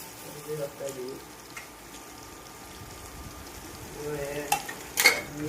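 Capsicum and curry leaves stir-fry for street-style gobi rice, a faint sizzle with occasional scraping stirs and a sharp clink near the end; voices murmur in the background.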